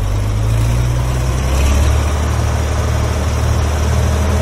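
An Oliver 1800 tractor runs a Gehl 125 grinder mixer with no load, making a loud, steady low engine drone and mechanical hum that holds constant throughout.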